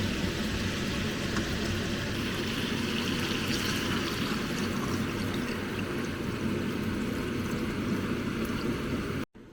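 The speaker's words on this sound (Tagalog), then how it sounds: "Lagyan na natin ngayon ng tubig." Water pours steadily into a cooking pot for tinola, a continuous close rushing and splashing that holds even and loud for several seconds, then cuts off abruptly.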